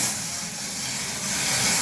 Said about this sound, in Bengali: প্রেশার কুকারে সিটি পড়ছে